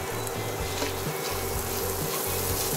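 Garlic frying in a pan, starting to turn golden, hisses in a steady, close sizzle with a faint rhythmic pulsing underneath and no talk.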